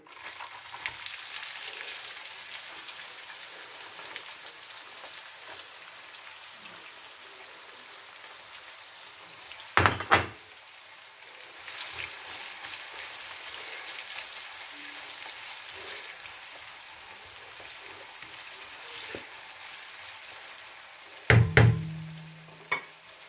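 Onions frying with cinnamon, cumin and cardamom in oil for a Pakistani-style mutton curry, a soft steady sizzle throughout, broken by two brief loud clattering knocks from a utensil against the pot.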